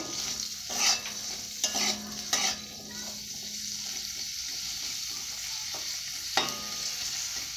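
Food fries in a pan with a little salt, a continuous close sizzle broken at intervals by brisk stirring scrapes of the spatula against the pan.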